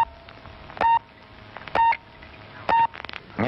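Telephone tones heard while dialing the Paris speaking clock, three evenly spaced loud beeps each lasting a fraction of a second over faint background hum.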